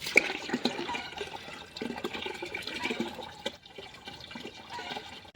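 Water gushes and splashes steadily into a tank at Suleipat Dam in Mayurbhanj, a continuous close, turbulent rush with bubbling and dripping throughout.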